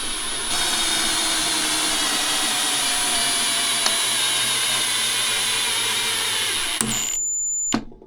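A Milwaukee subcompact driver runs at quarter throttle with a steady, close, high-pitched motor whine that holds for about seven seconds before cutting off, followed by a brief click.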